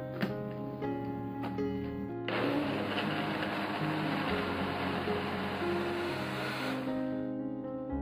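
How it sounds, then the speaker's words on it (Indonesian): Chunks of pineapple with water whir in a kitchen blender, starting after a few clicks and a low hum, then a loud steady grinding roar that holds for several seconds before dropping off near the end. "Kita blender sampai halus."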